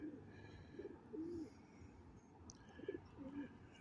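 Two similar-looking pigeons fighting, giving a few low throaty coos in short bursts, moderately close, over quiet outdoor background noise.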